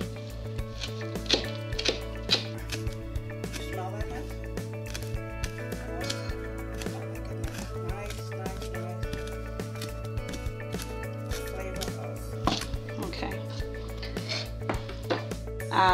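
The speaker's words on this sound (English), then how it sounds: "keep chopping until it's all nice and fine" A knife chops fresh cilantro finely on a board for salsa, giving a steady run of quick, close taps under a constant low background hum, with no talk.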